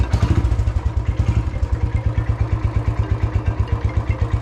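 A motorcycle engine idles close by with a steady, rapid low thumping pulse and a mechanical clatter, holding an even rhythm throughout.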